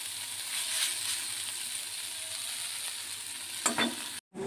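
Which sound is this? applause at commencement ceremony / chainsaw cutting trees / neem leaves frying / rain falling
neem leaves frying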